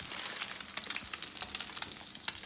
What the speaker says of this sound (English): I'm frying them until they're nice and golden brown